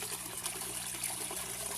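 Water pours from grow pipes down into an outdoor aquaponics tank, a soft continuous trickling and splashing heard faintly at a distance, with a low hum underneath.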